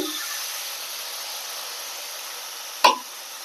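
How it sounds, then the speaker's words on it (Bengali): Flat beans fry in a pan for shim chorchori with a steady, even hiss throughout, and a single sharp utensil clink comes near the end. "শিমগুলো ভেজে নেব প্রথমে শিম চচ্চড়ি করার জন্য।"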